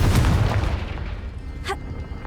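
The Confringo explosive spell going off in Hogwarts Legacy, a heavy booming blast at the start that rumbles and decays, followed by a short bright magical zap near the end.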